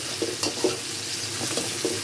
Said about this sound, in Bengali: হ্যাঁ, পেঁয়াজটা ভাজা ভাজা হচ্ছে।